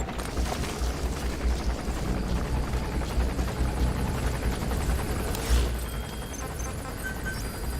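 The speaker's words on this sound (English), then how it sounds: "Please select a support helicopter requested." Support helicopter in the video game Metal Gear Solid V: The Phantom Pain, a loud continuous rotor thrum and engine roar mixed with bursts of gunfire and a heavy boom near the end, with no talking.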